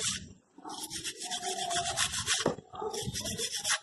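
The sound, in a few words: wire brush cleaning brake caliper hardware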